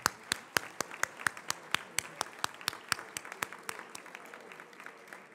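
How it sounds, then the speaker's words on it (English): Sparse, distinct claps from a few people at an awards dinner honoring sponsors, individual hand claps in an irregular rhythm, fairly quiet with room ambience. "Let's have a round of applause for all of our sponsors"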